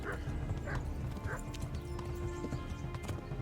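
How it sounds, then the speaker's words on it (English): A horse canters in the video game Kingdom Come: Deliverance during the Talmberg horse race, steady hoofbeats drumming under a soft game background, with a few brief neighs and snorts. "Need to be cantering until my horse is alright again."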